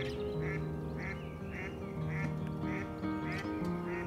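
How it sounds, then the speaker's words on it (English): A duck quacks repeatedly and loudly nearby outdoors in spring beside water during pole fishing for roach. A steady series of about eight evenly spaced nasal calls over a constant hum of background noise. "That's a duck that's giving it some there"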